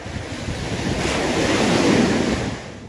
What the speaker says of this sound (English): Within the crashing waves at Butterfly Beach